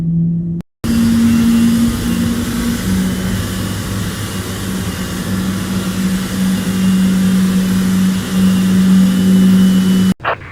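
A steady Boeing 787-8 jet engine drone in Microsoft Flight Simulator 2020, engine 1 starting, with a sustained low hum and rising whine, continuous and fairly loud as it spools up, with no talking.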